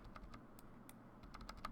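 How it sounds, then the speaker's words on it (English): Bracket key tapped repeatedly on a computer keyboard while enlarging a paintbrush tool: a quick series of light, close plastic clicks, sparse at first and then speeding up, over low room hum. "and I'm hitting the right bracket right now"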